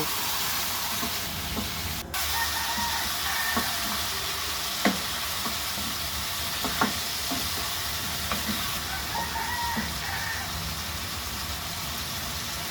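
Mutton curry frying in a pan gives a constant loud hiss and sizzle, with occasional scrapes and knocks of a utensil stirring it, and no voices.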